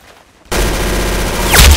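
Video game gunfire bursts in suddenly after a quiet moment and continues as a dense, loud, rapid stream of automatic shots with a heavier blast near the end.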